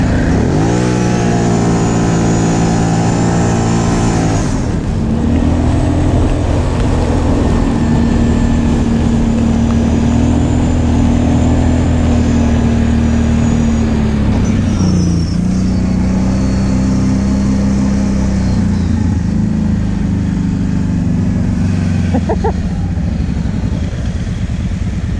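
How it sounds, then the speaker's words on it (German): A Kawasaki KVF 750 ATV engine revs hard and steadily in snow while all four tires spin, a loud, sustained droning roar whose pitch rises and shifts with the throttle, close by throughout. "Erstmal alle vier Reifen durchdrehen"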